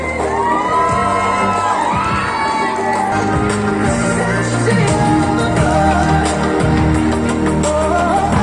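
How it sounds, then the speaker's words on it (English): A crowd at a 2022 beauty pageant cheers loudly for the contestants, with whoops and shouts rising over a continuous roar of voices. "Please cheer for them as they proceed to the backstage."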